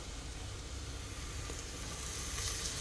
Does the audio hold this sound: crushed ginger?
yes